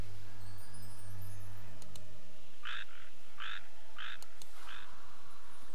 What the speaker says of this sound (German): man kennt ja den geheimnisvollen Frosch in der Seerose.